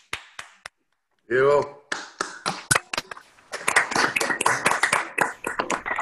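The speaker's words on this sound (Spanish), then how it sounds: "todos darle un aplauso a Juanjo para agradecerle mucho" A few scattered claps and taps come through open microphones from an online audience at a Spanish-language talk, irregular and uneven, mixed with a brief tonal voice and spoken words.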